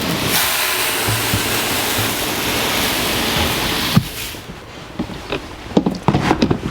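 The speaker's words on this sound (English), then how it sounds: "we'll pour the walnuts in." Walnut shell media pours in a steady, loud rushing hiss into a bolt tumbler for about four seconds, then stops, followed by scattered close knocks and rattles.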